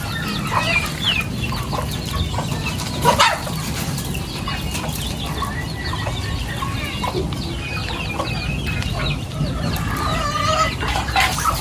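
Several chickens cluck and squawk on and off at close range over a low, steady background hum, with a brief rustle of wings.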